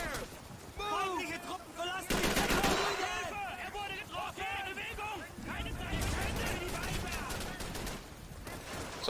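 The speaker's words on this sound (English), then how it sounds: "Alright, I can fire like this as well." Gunfire in the video game Call of Duty 3, with loud bursts of rapid shots that break out twice over continuous talking voices.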